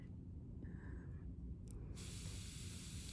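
A soft, steady hiss of an airbrush spraying paint runs throughout, getting brighter and louder in the final second, with a brief faint tone partway through.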